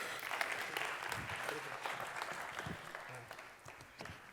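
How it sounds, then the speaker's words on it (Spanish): An audience at a medical talk on osteoarthritis treatment applauds the speaker: steady, dense clapping from a crowd, heard fairly faint and distant, tapering off slightly toward the end. "Un aplauso, por favor."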